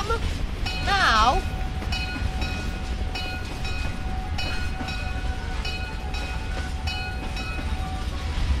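A tram rolls past in the Roblox game Mad City, a steady rumbling rail drone with a brief warbling horn-like tone near the start, held at an even level throughout and mixed with game background.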